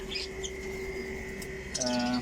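Budgerigar chicks on a bird-keeping farm set up, their thin chirps and calls sounding close over a steady background hum, with a brighter burst of tweeting near the end.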